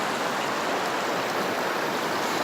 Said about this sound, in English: Look at this beautiful river that Jesus created this.